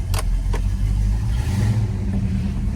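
The engine of a 1970 Buick Electra runs with a low, rumbling idle and light revving, close and fairly loud, with a couple of brief clicks early on.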